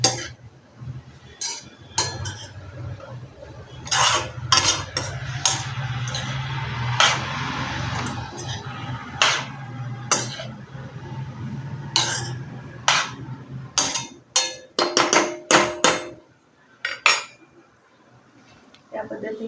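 Mung dal and vegetables, chopped radish leaves among them, are mixed in a pan, giving irregular metallic clinks and scrapes of a spoon against the pan, close and fairly sharp, with soft stirring sounds between them.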